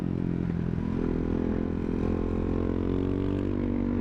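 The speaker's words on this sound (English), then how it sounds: "God, this exhaust sounds amazing." A Ducati Hypermotard 690 Mono RVE single-cylinder motorcycle's exhaust drones steadily while riding in winter in Arizona, with a deep continuous engine hum and slight pitch shifts, heard alone without talk.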